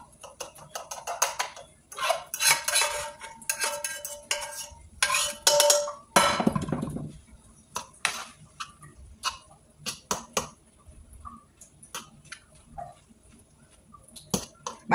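Eggs go into a pan over low heat and get stirred, giving a run of clinking, scraping utensil taps against the pan that are fairly close and irregular, with no talking.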